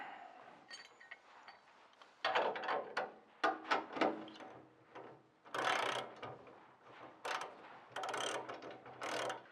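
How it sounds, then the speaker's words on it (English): Clicking ratchet or torque wrench tightening nylock bolts on the lower control arm of a 1966 Chevy Nova during a Total Cost Involved pro touring front IFS install; bursts of loud close mechanical clicks, alone. "eventually these are going to be torqued to 90 foot-pounds"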